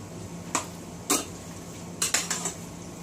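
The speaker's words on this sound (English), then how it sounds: "just let's stir this up" Spoon stirring a bowl of cheese mixture seasoned with salt and pepper, giving a handful of sharp clinks and scrapes at irregular intervals, close and fairly loud over a quiet kitchen background.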